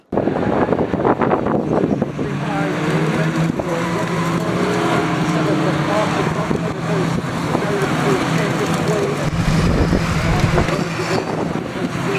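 Race cars lap the Knockhill circuit with a continuous loud engine roar heavily buffeted by wind noise, a sustained drone that holds near and steady the whole time.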